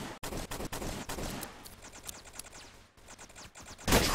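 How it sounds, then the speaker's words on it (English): Pistol shots in the HEX mode of a competitive shooter game, sounding as a series of sharp, quick reports in irregular bursts, with a louder, harsher blast of noise at the very end. "Shooting him with a pistol"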